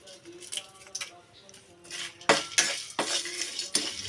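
Broken dried red chillies are dry-roasted in a pan. A metal spoon scrapes and clinks against it in irregular, fairly faint strokes, with a few louder scrapes, and there is a little background noise.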